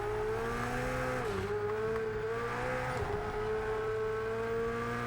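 A Ferrari SF90 races in Project Cars 3, its engine a steady, fairly quiet droning whine that dips briefly as it shifts and then holds, with no voices.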